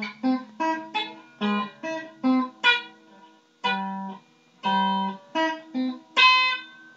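Plucked guitar notes ring out one after another, climbing in pitch across the strings, with short pauses between clear, close single tones.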